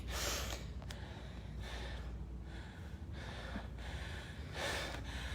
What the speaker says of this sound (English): You can't see us, but you can hear us breathing